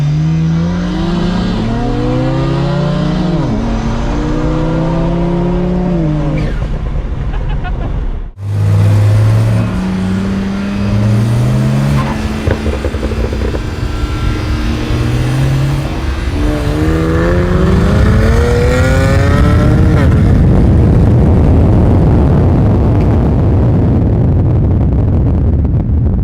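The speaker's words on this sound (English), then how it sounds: "we'll give you the head, so when you floor it, he'll floor it" A BMW 335i races another car at full throttle, its engine loud and close, revving high and climbing through several gear changes with one brief cut, and no voices over it.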